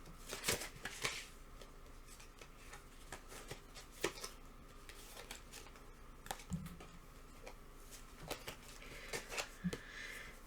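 Oracle cards being shuffled by hand, a soft papery riffle with scattered light taps and flicks, close and quiet, with no talking.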